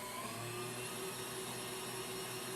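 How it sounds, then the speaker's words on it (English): A kitchen mixer beating malted chocolate cake batter with milk and vanilla runs at a raised speed, giving a steady, continuous whirring hum with no talking. "Increase the speed on my mixer a little bit."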